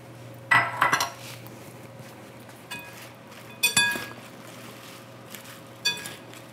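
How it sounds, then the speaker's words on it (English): Arugula salad with cheese and nuts being tossed in a bowl: a few scattered clinks and knocks of utensils against the dish, separated by quiet pauses. "I'm going to add those to the arugula and toss it together."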